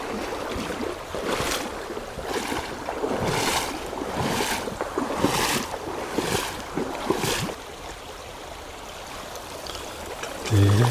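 River water rushing and surging against an angler's waders while wading a fast river, loud close pulses of splashing and churning that ease off near the end.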